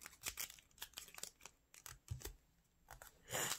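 Paper being folded and creased for a sailfish origami, heard as close, quiet rustles and crisp crinkling in short bursts, ending in a louder crumple.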